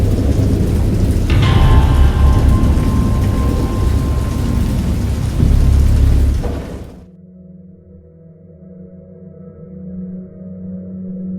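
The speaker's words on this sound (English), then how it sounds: "I know that I heard pearls of thunder and other tones which nature utters only in her wildest moods." Heavy rain roars with rumbling thunder for several seconds in the PC game Dagon, then cuts abruptly to a quieter, low droning ambience.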